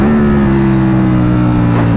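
A 2023 Ducati Panigale V4 motorcycle engine held at a loud, steady high-rpm drone while riding, close and strong, with a sharp shift in pitch right at the end.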